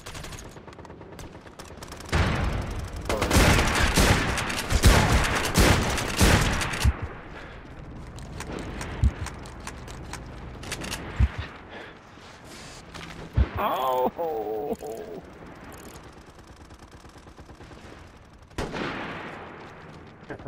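Shotgun blasts and bursts of gunfire ring out in the online shooter MAG, sharp loud shots clustering in rapid volleys early on, then scattered single blasts and mechanical clicks with quieter gaps, a voice talking at times.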